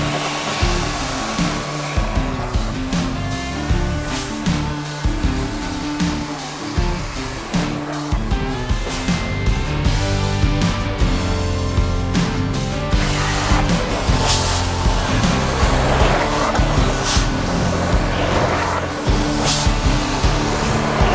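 A carpet cleaning machine running in a cold-weather resort setting, a loud continuous motor whine and rushing airflow that stays steady for the whole stretch, close and unbroken.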